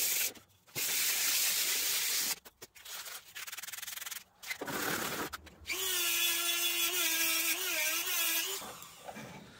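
Wood is sanded smooth on a homemade potato-masher prop: scratchy rubbing strokes broken by short pauses, then a steady whining power-tool drone with a wavering pitch that stops abruptly.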